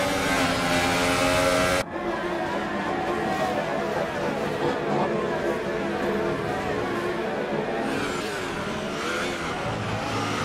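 Lewis Hamilton's Formula 1 car in the F1 2018 racing game roars through the tunnel, a loud sustained high-pitched engine whine that shifts abruptly after a couple of seconds into a denser, echoing drone mixed with other cars, with commentary voices over it.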